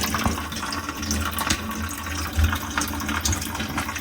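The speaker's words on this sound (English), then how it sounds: "You can see how the water is running through it" Water running through a 3D-printed prototype cooling plate for an electric motorcycle battery, a steady close splashing gurgle with small knocks and clicks scattered throughout.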